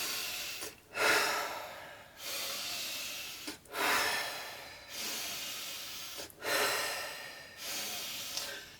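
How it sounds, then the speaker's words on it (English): Slow, deep breathing during a guided breathing session: about four long, airy inhale-and-exhale cycles, each a rushing hiss that swells and fades, close and fairly quiet. "Nice deep inhales. Relax the body on the exhales."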